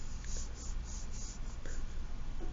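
Pen or pencil writing on paper during an algebra lesson, a steady close scratching with short strokes for a few seconds, no talking.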